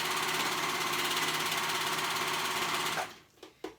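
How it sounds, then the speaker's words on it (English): A sewing machine stitches through three layers of dress fabric in a fast, steady, close mechanical whir that stops abruptly near the end, followed by a few brief handling clicks. "Make sure you're sewing all 3 layers"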